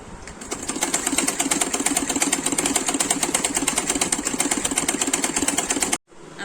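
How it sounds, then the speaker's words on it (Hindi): Sewing machine running a double stitch through cloth, a fast, even rattling hum held steadily for about six seconds before stopping abruptly, close and loud with no voices. "दोबारा डबल सिलाई कर लीजिए"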